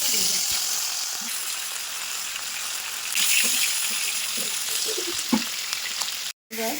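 Steady hissing sizzle of rohu fish frying in hot oil in a wok, loud and continuous, with occasional soft clinks and light sounds over it.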